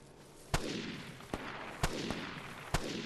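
Gunfire from a firefight in the video game Vigor sounds from a distance in five sharp, scattered cracks over a few seconds, fairly faint against quiet background noise.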